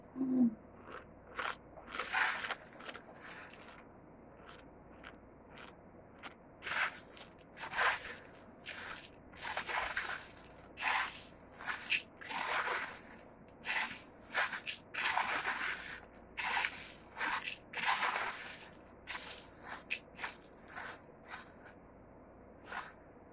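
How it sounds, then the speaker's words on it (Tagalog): Crunchy pop rice is chewed up close in a series of loud, irregular crisp bites and crunches, with no talking. "Sir Jerry, kain na tayo ng pop rice."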